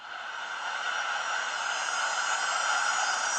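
An Oppo Find 7 phone's weather app summer sound effect: a loud, steady, bright hissing buzz, like insects on a hot day, continuous and alone with no speech.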